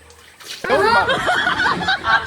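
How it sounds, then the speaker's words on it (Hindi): Water poured over a guest's feet for washing: a sudden gush of splashing and pouring that starts after a short quiet moment and runs on loudly and close. "मेहमान के पैर धोआबै छे"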